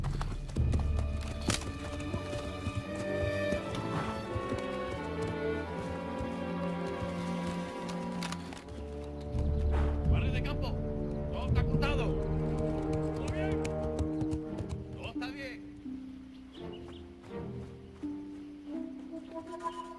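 Horses' hooves clip-clop steadily beneath speech and a musical score, with the movement continuing throughout.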